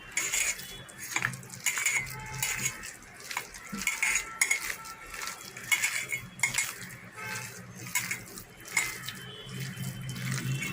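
Spice-marinated horse gram dal being mixed by hand or spoon in a bowl, with irregular clinks of utensils and wet squelching movements, fairly close and moderately quiet.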